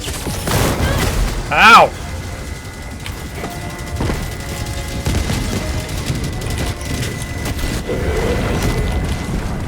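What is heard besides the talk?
explosions in the video game Helldivers 2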